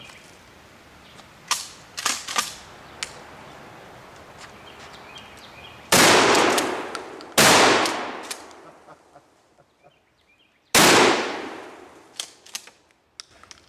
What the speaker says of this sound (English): let's take a couple of shots with this, just to get those jugs out of the way